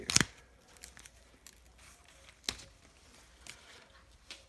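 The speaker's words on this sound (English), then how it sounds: "I'm going to take this one and we'll just cut it back" Snipping back a plant stem to take cuttings for fuller pots: a sharp crisp snip-and-rustle burst at the start, then a few faint ticks and light crackles of handled foliage, close and quiet.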